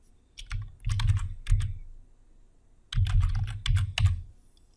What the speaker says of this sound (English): Now I type in February